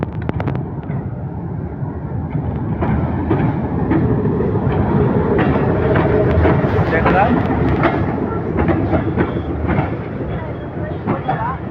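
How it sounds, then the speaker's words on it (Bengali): A train arriving at 5BB station at night, with a continuous rumbling roar and rhythmic rail clatter building and holding across the platform, loud and fairly close, with crowd noise mixed in. "আমি এখন আছি 5BB স্টেশনে, আর ইতিমধ্যে এখানে একটি ট্রেন আসছে"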